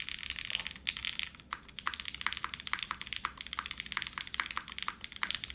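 Steady, brisk typing on a polycarbonate Kohaku mechanical keyboard, with dense, crisp keystroke clacks running continuously and close up, and no voices.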